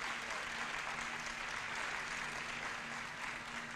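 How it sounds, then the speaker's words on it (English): Sustained audience applause fills a room at a New York Fashion Week runway show, a steady dense clapping that holds at even loudness throughout. "I'd give them a big hand for all of them."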